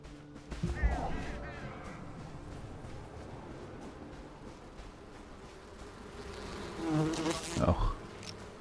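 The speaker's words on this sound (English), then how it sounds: "bees" Bees buzz in the video game Enshrouded, a steady insect drone running throughout under other game sounds, with louder bursts of activity near the start and again toward the end.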